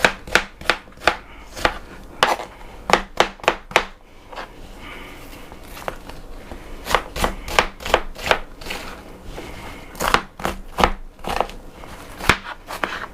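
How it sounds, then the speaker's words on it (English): A knife roughly chopping an onion on a cutting board for an eggplant parmesan casserole, with irregular bursts of sharp close thuds, quick runs of several strokes separated by short pauses. "We're just going to roughly chop the onion"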